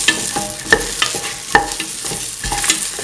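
Red and green chilies fry in a pan for a cauliflower, bell pepper and coconut milk stew, a close, steady sizzle broken by regular clinking scrapes of a spoon as they are mixed.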